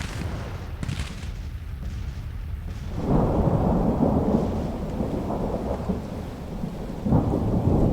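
Thunderstorm in the Civil War strategy game Grand Tactician: The Civil War, starting with a low distant rumble and swelling around midway into a sustained heavy roll of thunder over steady rain.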